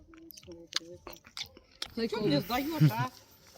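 Chewing and crunching on smorodina (currant) berries picked in a Russian countryside village, close-up bites and squishy mastication mixed in with speech.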